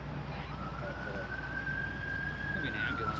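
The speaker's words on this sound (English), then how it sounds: "more people are still responding lights and sirens on the highway" An emergency vehicle siren wails on a highway as police lights and sirens respond to a standoff, a single long rising and falling tone at a distance, heard over steady road and wind noise.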